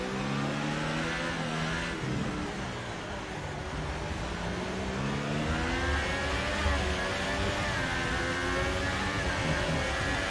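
Race cars roar past on a circuit, engines revving and shifting in a continuous loud drone over the whole stretch, with faint commentary voices underneath.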